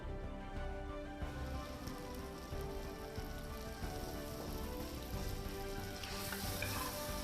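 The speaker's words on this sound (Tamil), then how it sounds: "எல்லா மசாலாவுமே அந்த பச்சை வாசம் போகிற அளவுக்கு எண்ணெயில் நல்லா வதக்கினோன்னா டேஸ்ட் நல்லாயிருக்கும்" Masala fries in hot oil for Madurai mutton varuval, a steady, rain-like sizzle and crackle with soft stirring, continuous and fairly close.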